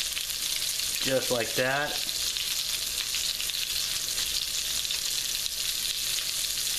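Swedish meatballs brown in a hot pan with a steady, bright sizzle that runs throughout. Someone speaks briefly near the start over the frying.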